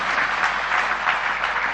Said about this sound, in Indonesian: saya mohon Anda tepuk tangan semua untuk cinta dan perjuangan kita pada malam hari ini